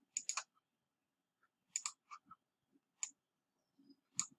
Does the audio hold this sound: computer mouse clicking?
yes